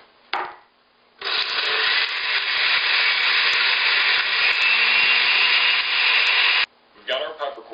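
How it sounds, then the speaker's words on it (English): A dry blender grinds about a tablespoon of whole peppercorns into a coarse crack, giving a loud, steady roaring whir that runs for about five seconds, with brief clattering noise just before and after. "I like to use whole peppercorns and then just throw them in a blender, a dry blender, and it'll grind them up a little bit"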